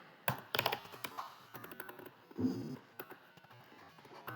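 Fingers type Python code on a computer keyboard, a close, uneven run of quick clicking keystrokes with short pauses between bursts.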